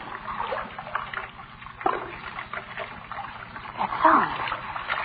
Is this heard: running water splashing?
yes